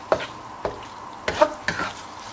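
Chilli honey garlic prawns cook in a thickening sauce, a soft sizzle punctuated by four or five short scraping stirs of a utensil against the pan.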